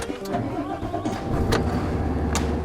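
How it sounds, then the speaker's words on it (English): Cummins diesel engine of an Isuzu FVL 260-300 6x2 truck cranking and catching, then settling into a steady, loud, close idle with a deep rumble. "I'm really keen to hear what this Cummins engine sounds like."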